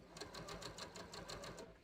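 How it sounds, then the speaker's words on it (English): A domestic sewing machine runs a row of gathering stitches in a quick even burst, a rapid regular needle clatter of about a dozen strokes, close and fairly quiet, alone without talk. "I'm going to put the second row of gathering stitches up here."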